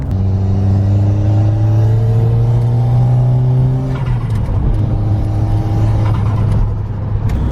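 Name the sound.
turbo boost of Ford Sierra RS Cosworth engine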